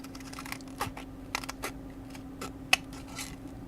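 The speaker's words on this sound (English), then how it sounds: "I'm just gonna trim it down." Scissors trim a paper card for a crafting project, giving a few quiet, separate snips and crisp cuts spread irregularly over a low steady hum.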